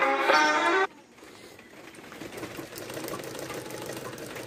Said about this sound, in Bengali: এই যে আবার সোজাভাবে সেলাই করে নিচ্ছি।